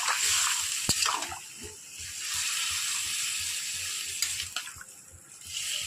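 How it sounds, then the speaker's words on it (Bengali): Water is poured into a cooking pot of vegetables for a fish-head stalk curry, a splashing, gurgling stream with a sharp knock near the start and faint talk at times. "পরিমাণ মতো জল দিয়ে দিলাম।"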